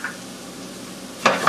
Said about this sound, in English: let that saute for a while